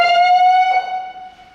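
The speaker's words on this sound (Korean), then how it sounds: "실제로 누르면 벨 울리고요. 전층에 다 이렇게 알람 들어가요." A fire alarm sounding in a building, a loud steady electronic tone with strong harmonics that shifts pitch slightly partway through, then fades a little toward the end.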